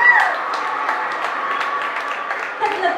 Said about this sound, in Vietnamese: Một tràng pháo tay cho MC Kỳ Duyên.